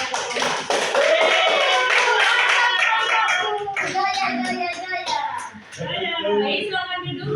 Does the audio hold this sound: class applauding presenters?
yes